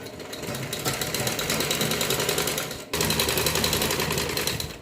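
Close and steady, a sewing machine runs continuously while stitching a net kurti, a dense rattling whir with one brief break before it carries on.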